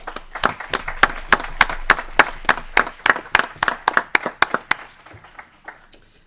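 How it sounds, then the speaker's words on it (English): An audience at a state legislative committee meeting claps for a departing colleague, a steady run of sharp, close hand claps that thins out and fades toward the end. "So if we can take a moment just to applaud Eric for his hard work"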